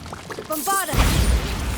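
A Bombarda spell in Hogwarts Legacy bursts into a deep, roaring boom that swells loud and rumbles on for about a second, following a short burst of spell-casting chime and whoosh.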